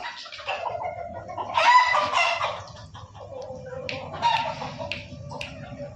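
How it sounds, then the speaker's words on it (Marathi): A desi gavthi rooster clucks close by in a few short, throaty bursts with pauses between them. "हे बघा मित्रांनो हा उलटा बेसनचा कोंबडा आहे"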